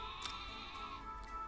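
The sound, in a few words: Wooloo sheep Pokémon bleating in video game Pokemon Sword & Shield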